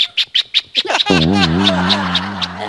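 A person vocally imitates a doorbell: a string of short chirpy clicks, then a long warbling ding-dong tone sung in one breath, close and clear.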